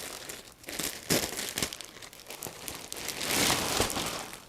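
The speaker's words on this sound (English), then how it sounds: "So we'll take it out of the plastic." Plastic wrapping crinkling and rustling as a Purple Harmony orthopedic pillow is pulled out of it, close irregular crackles and crunches that swell toward the end, with no talking.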